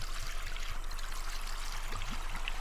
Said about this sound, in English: hold this, and refill my generator.